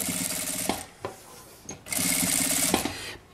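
An industrial sewing machine stitches bias binding around the edge of a small fabric charger and earphone holder, running in two loud close bursts separated by a short pause with small clicks.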